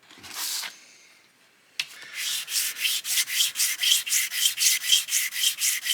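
Hand sanding with 320 grit sandpaper on a flat surface, a brief rub followed by a steady run of about fifteen rhythmic back-and-forth strokes, close and clear with no talking.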